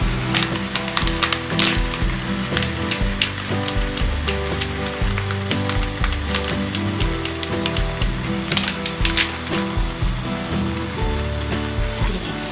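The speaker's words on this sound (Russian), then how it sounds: "И варим на медленном огне эту смесь" Steady sizzling and bubbling from a butter, sugar, cocoa and water mixture simmering over low heat in a saucepan, with faint crackles and clicks, continuous and fairly close, with no talking.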